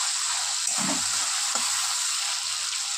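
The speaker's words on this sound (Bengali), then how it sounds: "তো টমেটোটা ভেজে নিই" Tomato frying in a pan with salt, a steady bright sizzle that is close and continuous, with soft stirring scrapes breaking through a few times.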